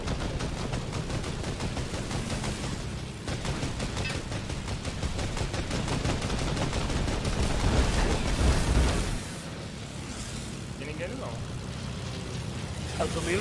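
Gunfire crackles through a multiplayer shooter match, rapid shots layered under continuous talk from players, growing louder and denser before easing off.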